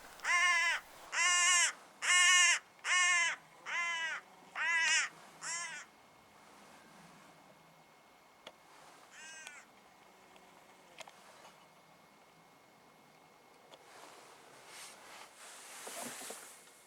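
Hooded crow caws answering a blown crow call in the Highlands: a run of six loud, harsh caws in steady rhythm, then a single fainter caw a few seconds later amid quiet outdoor background.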